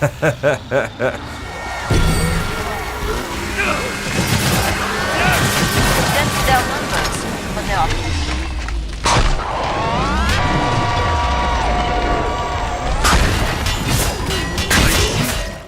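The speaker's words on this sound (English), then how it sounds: "use that AA-12 shotgun which just wrecks face" An AA-12 automatic shotgun blasts in the video game Killing Floor 2, with a rapid opening run of booming shots and then heavy crashes, explosions and chaotic game effects, while voices talk over much of the action.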